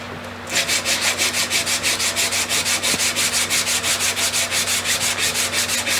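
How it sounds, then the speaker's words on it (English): A Colt Lightning's draw-filed metal is sanded by hand in a steady back-and-forth rhythm of about four strokes per second, close and loud, with no talking. "so we're gonna start sanding."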